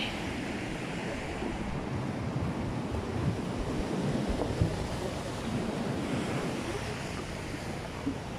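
Ocean surf rolls in steadily at Port Edward while friends fish from the shore, a continuous broadband wash of waves with wind buffeting the microphone and no talking.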